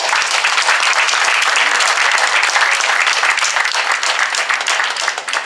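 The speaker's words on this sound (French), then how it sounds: "On peut l'applaudir." An audience at a Parti socialiste political conference in Paris claps in a dense, loud, steady applause that holds throughout and only begins to thin slightly at the very end.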